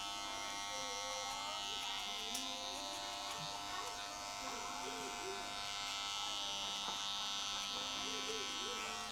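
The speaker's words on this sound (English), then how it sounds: "I'm gonna go back with the clipper over comb to push everything up a little bit and clean everything up more" A barber's electric hair clipper runs with a steady, close buzzing hum while cutting hair during a taper fade, with someone talking over it throughout.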